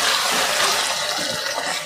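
Minced mutton keema frying on a high flame, a loud continuous hiss and sizzle that stays steady and close for about two seconds with no talking.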